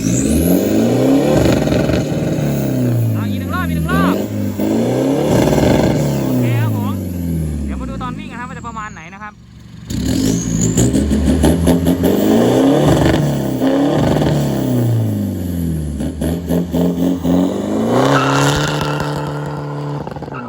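Remapped Isuzu All New 2500 diesel pickup engine revving hard in repeated blips, rising and falling under loud close talk, with a brief drop near the middle before the revving resumes.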